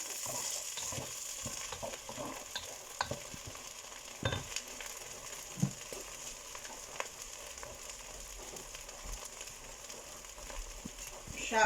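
Onions soften in a hot pan for beef Haji biryani, giving a quiet, continuous sizzle broken by scattered scrapes and knocks of a spoon as they are stirred.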